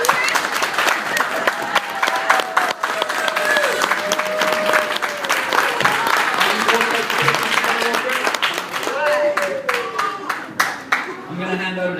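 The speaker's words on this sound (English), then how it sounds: "One more round of applause for our forwards." Sustained applause from an audience at a Kroc Center basketball award ceremony, dense clapping that runs through most of the clip with a voice speaking over it.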